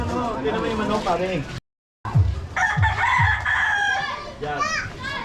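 Chickens cluck and a rooster crows nearby in a Caloocan City neighborhood, Philippines, with people talking over the birds and a brief silent gap early on.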